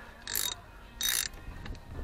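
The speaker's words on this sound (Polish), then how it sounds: "O, tak mówię, tylko lekko dokręcam." A ratchet lightly tightens a bolt on an Ursus C-360 tractor during power steering pump and steering column work, giving two short bursts of close, crisp clicking separated by a brief pause.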